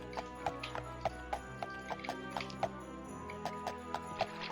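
Horse hooves clip-clop at a steady walking rhythm in the Daggerfall Unity video game, each hoofbeat sharp and distinct, with a low background hum and no talking.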